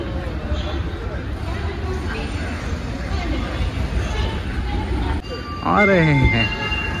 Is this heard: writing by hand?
no